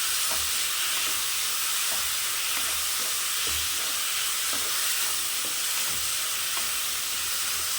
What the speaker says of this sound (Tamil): நல்லா அந்த தக்காளி வதங்கட்டும்.